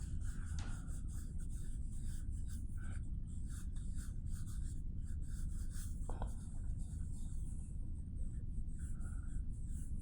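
Pencil scratching across paper while a portrait is sketched, a steady close rasp of strokes with brief pauses, over a low background hum.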